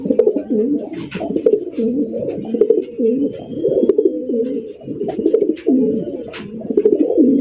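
White racer pigeons coo in deep, throaty, overlapping rolls close by, a steady continuous murmur with occasional wing flutters and faint chirps.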